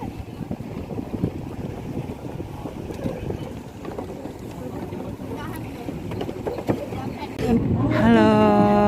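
Pesut Kita cruise ship sailing on the Mahakam River, a continuous low engine and water rumble with wind buffeting the microphone and voices talking over it.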